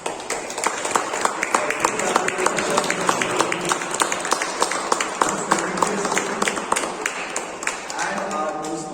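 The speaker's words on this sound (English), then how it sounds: "have a huge round of applause" A crowd at a Toastmasters meeting applauds with steady, even clapping that carries on for several seconds, with a voice speaking over it.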